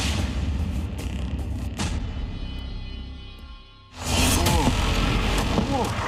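A heavy explosion from a missile attack on an Israeli city, a sudden loud broadband blast about two-thirds through that follows a quieter rumbling stretch, its roar sustained to the end.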